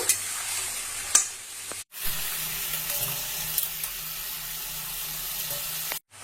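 Chicken frying in hot oil, a steady close sizzle with stirring clatter and two brief drops to silence, no speech.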